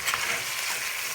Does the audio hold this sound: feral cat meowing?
no